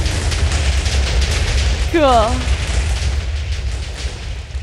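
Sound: explosions in Minecraft video game

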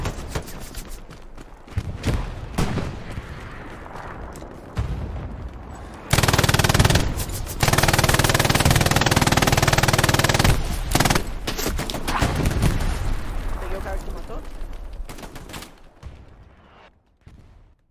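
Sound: tank firing and gunfire in the video game Hell Let Loose

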